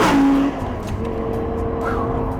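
An Audi R8 V10 accelerates hard, a loud, close engine roar with rising revs after a brief initial burst, continuing strongly throughout.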